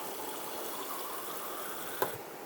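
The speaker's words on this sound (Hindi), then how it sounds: "पानी इसमें मैं और डालूँगी अभी, क्योंकि चावल हमने डालने हैं इसमें।" Water pouring steadily into a cooking pot for lentil and rice khichdi, a continuous close splashing gush with a small knock near the end, no speech.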